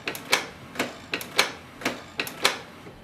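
Canon TS3700 inkjet printer works through its automatic cleaning cycle, giving paired mechanical clicks and ticks at a steady rhythm, close and moderately quiet, with no voices.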